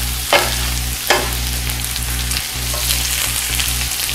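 Lemon zest sizzles steadily in a hot pan, a loud, close frying hiss broken by a few sharp stirring scrapes, with no voices.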